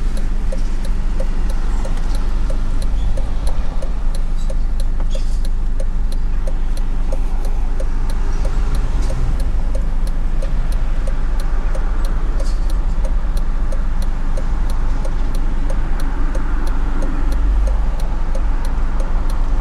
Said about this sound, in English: Apparently the traffic hasn't gone.